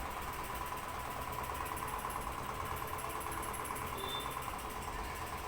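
A sewing machine stitching lehenga fabric for a Barbie doll runs in a fast, even whir with a steady mechanical buzz and no pauses.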